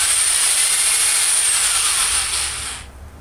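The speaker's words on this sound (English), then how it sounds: "This is 3/8, so I'm going to use a 3/8 inch bit." A power drill with a 3/8 inch bit bores into the wooden body of a spin drum made with dog bone material. It gives a loud, high, steady whine that winds down near the end.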